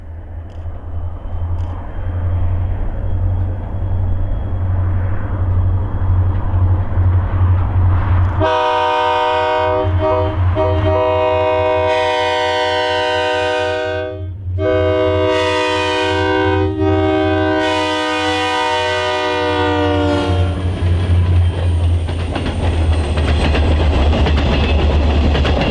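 A Union Pacific potash freight led by EMD four-axle locomotives rumbles past nearby, its horn sounding in several long, loud blasts over the heavy rolling drone of the train, which continues after the horn stops.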